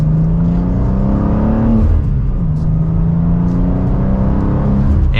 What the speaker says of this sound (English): with one last acceleration for today, that is it for the 2023 BMW M2